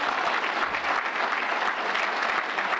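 An audience claps their hands at a civil rights gathering, a dense, steady wash of applause at even loudness throughout, with no voices standing out.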